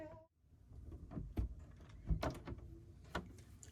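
A wooden cabin door opens aboard a 37ft sailboat into the aft cabin, with a short series of knocks, clicks and rattling handling sounds, close and fairly quiet, no talk.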